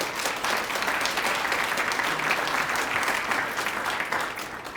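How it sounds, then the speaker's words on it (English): Sustained applause from an audience at a design awards ceremony, honoring an event sponsor, a dense steady wash of many hands clapping at moderate loudness, tapering slightly at the end. "Give them a round of applause if you would join me."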